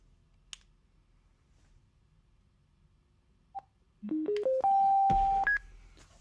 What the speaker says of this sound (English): You'll hear the phone.